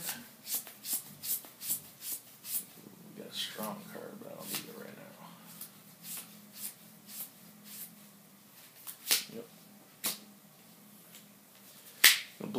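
Physical Shadow Era game cards being drawn, slapped down and shuffled on a table, a series of sharp close snaps and flicks at an uneven pace, with soft talking beneath.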